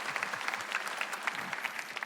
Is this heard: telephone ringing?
no